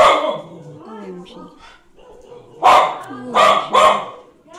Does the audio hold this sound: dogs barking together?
yes